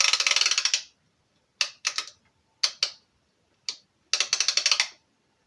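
Ratchet wrench clicking on a Land Rover Discovery 200Tdi axle plug in a workshop, in several close, crisp bursts of rapid ticks separated by short pauses, with no talk.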